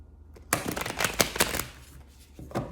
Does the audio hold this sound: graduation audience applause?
no